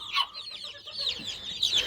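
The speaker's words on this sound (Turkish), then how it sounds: "bakın burada daha bir sürü civcivimiz var" Many young chicks, among them a white one, moved to a new enclosure, give off continuous high, shrill peeping that sounds close and busy, with a brighter burst of cheeps near the end.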